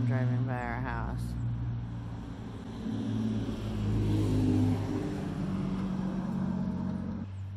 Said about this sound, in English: Here comes someone driving by our house.